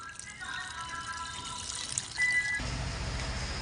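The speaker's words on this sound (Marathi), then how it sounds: "आता हळूहळू आपण पाणी टाकणार आहोत।" Water poured slowly from a container onto soil in a pot, covering a layer of coconut husk for planting lotus seeds: a soft, steady trickle with a brighter splash near the end, fairly close and quiet, with no talking.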